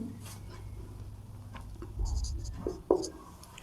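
Pen scratching across paper during a class 12 maths lesson, a few short strokes and taps that are quiet and close, ending in a sharper scrape.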